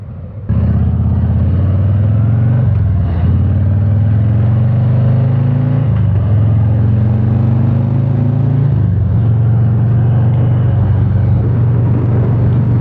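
A Harley-Davidson motorcycle cruises along a motorway, its loud, close engine droning steadily and rising in pitch through several gear changes, with wind rush underneath.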